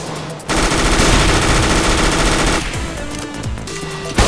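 Counter-Strike: Global Offensive gameplay with dense, continuous automatic gunfire, rapid rattling bursts filling the clip loudly and close, tapering into scattered shots near the end, with no talk.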